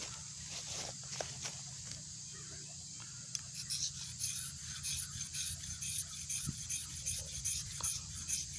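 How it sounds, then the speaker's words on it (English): Close, continuous rasping scrape as the coating is worked off a Gorilla Survival ferro rod, in quick irregular strokes that grow busier toward the end, without speech. "I want to scrape this off, you know, some of the coating"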